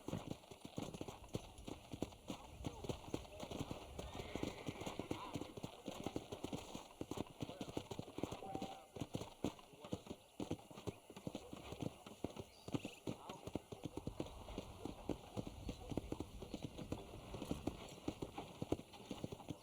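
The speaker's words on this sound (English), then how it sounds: "let's see if you can still ride a horse" Horse hooves clip-clopping at a steady gait while riding in Red Dead Redemption, rhythmic and continuous throughout, faint and under someone talking.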